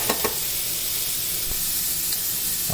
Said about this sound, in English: I put some mushrooms and peppers and some onion, salt and pepper, and I'm just going to sear these off